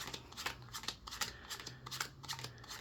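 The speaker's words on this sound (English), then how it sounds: "you're just dealing, again, left to right, till you run out of cards" Playing cards dealt one after another onto piles from left to right, a quick series of soft flicks and slaps close by and fairly quiet, with no talking.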